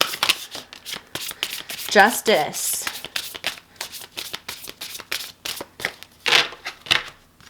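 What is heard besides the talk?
shuffling tarot cards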